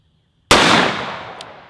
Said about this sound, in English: So I got one more round left. Let's go ahead and put that in there, fire it off.